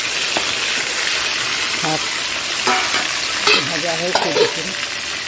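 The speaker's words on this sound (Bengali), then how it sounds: "মাথাগুলো একটু ভেজে রেখে দিই" Fish heads fry in a pan with a loud continuous sizzle and crackle, close by, with occasional clatter and scraping of a utensil and brief voices talking over it.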